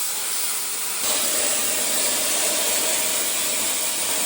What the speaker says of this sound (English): So Dedic's gonna do that right now with the plasma cutter.